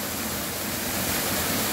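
Rushing waterfall at Cachoeira do Lobão in a wild Brazilian setting, a loud, unbroken roar of falling water filling the whole moment close by.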